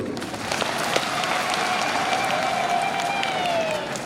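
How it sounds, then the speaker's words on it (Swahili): An audience at a church fundraising meeting for a cathedral building project breaks into loud, sustained applause that stays dense and even for several seconds, a room full of clapping with no voice over it. "Naomba muongeze makofi kidogo."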